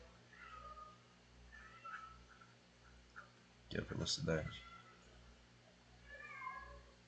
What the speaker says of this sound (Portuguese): Está miando em algum lugar.